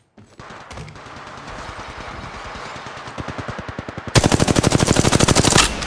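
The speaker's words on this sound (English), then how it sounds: "Firing on subject." Automatic weapon fire in the mobile game Apex Legends Mobile: rapid bursts that grow steadily louder, ending in a loud, close sustained volley of shots.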